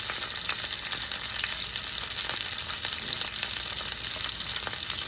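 Cherry tomatoes sizzle steadily in a hot frying pan, a continuous loud crackle with some stirring, for a Sicilian swordfish dish.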